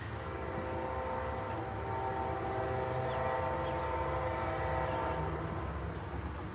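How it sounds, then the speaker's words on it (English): The Amtrak California Zephyr passenger train rolls into the Ottumwa, Iowa station with a steady rumble and a sustained horn tone, loud and continuous with no talking. "our train, the California Zephyr,"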